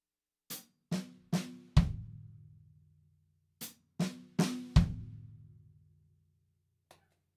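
A short drum pattern played twice: quick snare-like hits followed by a deep, ringing bass drum note, each phrase ending in a decaying boom.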